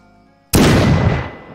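A single revolver shot in the video game Florida Simulator 1986 cracks in suddenly after a quiet moment, loud and close, then rings out in a long, fading tail.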